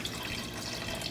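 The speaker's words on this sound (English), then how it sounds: "let's get the stock poured in" Stock pouring into a soup pot as a steady splashing liquid stream, close and continuous for a brief moment with no voices.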